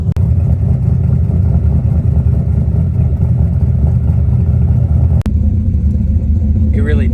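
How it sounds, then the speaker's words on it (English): A Ford Mustang V8 with a Borla or Flowmaster exhaust runs with a loud, continuous low rumble that shifts slightly in tone after a brief break, and a faint voice comes in near the end. "You get that nice cam sound, not overly aggressive. It is a higher pitch sound, but it's not to the point to where it's droney"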